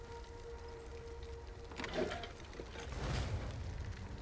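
A wheel mechanism is turned in Diablo IV, giving a short mechanical ratcheting grind with a brief clunk midway. It sits at moderate level over a low game ambience, with no talk.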